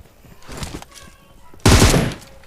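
Automatic gunfire in a shooter video game, a sudden loud sustained burst arriving after a quieter stretch of game sounds, close and dominant with no speech over it.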